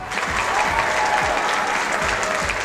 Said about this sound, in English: Please give yourself a massive round of applause